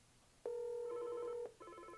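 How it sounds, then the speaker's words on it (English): A Yealink SIP-T28P desk phone rings with a steady electronic tone lasting about a second, then a brief pause before a second warbling ring starts, loud and close in a quiet room. "We see we have our phone ringing."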